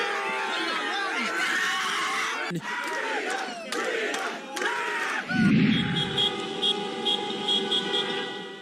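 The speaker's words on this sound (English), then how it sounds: "The streets of Spain's capital, Madrid, resound with the honk of car horns as thousands rally in the city" Car horns honk repeatedly amid a loud, shouting crowd at a protest rally in the streets of Madrid, with sustained horn blasts and cheering layered together.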